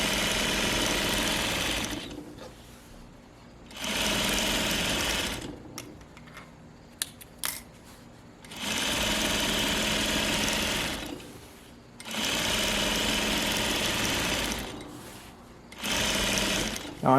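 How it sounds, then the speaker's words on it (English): A sewing machine stitches a channel in 100% cotton fabric, running in four or five steady, loud bursts of rapid mechanical whirring separated by pauses with softer handling clicks. "I'm sewing this channel because I want the elastic to stay up here"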